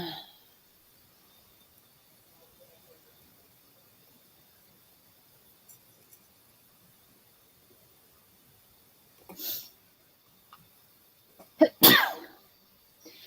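A person sneezes sharply and loudly, close to the microphone, after a long near-silent stretch. A smaller burst comes earlier, and a brief breathy sound follows.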